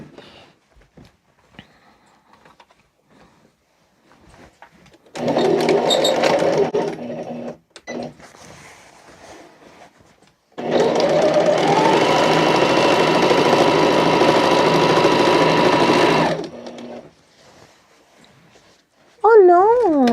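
Sewing machine stitching two pieces of curtain fabric together, running in two loud sustained bursts, a short one then a longer steady run, with quiet pauses between.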